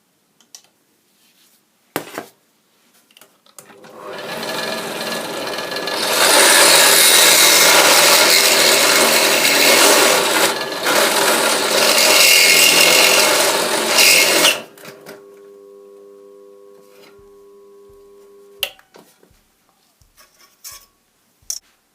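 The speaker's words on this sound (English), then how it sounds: "Step the drill up." A power drill grinds steadily into a metal shear bolt on a Yamaha FZS600 ignition barrel for several seconds, loud and harsh, then winds down to a humming motor and a few clicks.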